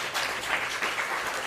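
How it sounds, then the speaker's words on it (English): Audience applause at a ReactNYC meetup, a steady dense wash of clapping from a roomful of people, close and fairly loud, with no talk over it. "so huge round of applause."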